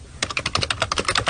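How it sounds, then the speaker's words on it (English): Rapid run of keystrokes on a computer keyboard, a dozen or so crisp clicks in a quick uneven rhythm, close and clear over a faint background hiss, with no talking. "you can type on your keyboard just using your chest"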